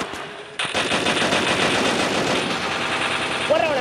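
Rapid automatic gunfire rattles continuously in Free Fire, a loud dense burst sustained for several seconds after a brief opening shot.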